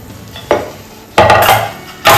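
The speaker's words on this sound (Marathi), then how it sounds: "आता यामध्ये आपण सर्व ड्रायफ्रुट्स टाकणार आहोत बारीक केलेले काजू आणि बारीक केलेले बदाम" A spoon stirs chopped cashews and almonds into semolina roasting in ghee for a sweet sheera offering, making three short scraping, sizzling strokes close by, separated by quiet pauses.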